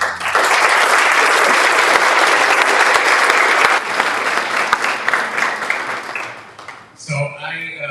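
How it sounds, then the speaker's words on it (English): A live audience applauds students with dense, loud sustained clapping that holds steady, then tapers off before a voice begins speaking at the end. "So, everybody, if you can give them a round of applause."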